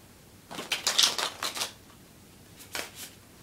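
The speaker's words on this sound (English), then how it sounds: "we're going to give it a quick shuffle" A deck of playing cards given a quick shuffle, a close rapid riffle in several fluttering bursts followed by a shorter second riffle.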